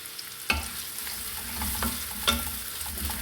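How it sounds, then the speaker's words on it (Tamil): Chopped pirandai sizzles steadily in a pan while a spoon scrapes and knocks a few times as it is stirred, close and clear. "இதை நல்லா ஃப்ரை பண்ணிக்கணும்."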